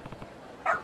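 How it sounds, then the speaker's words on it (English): A stray dog in the video game Like a Dragon: Ishin gives a short run of quick, muffled yaps, then one sharper, louder bark at the end. "it's barking its fool's head off like that"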